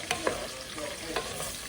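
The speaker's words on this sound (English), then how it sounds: "Saute it for 5 minutes." Vegetables for a vegan gumbo sauté in a pan, a steady soft sizzle broken by a few sharp scraping stirs, close and fairly quiet with no voices.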